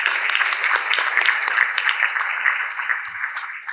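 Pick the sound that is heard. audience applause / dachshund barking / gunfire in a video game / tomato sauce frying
audience applause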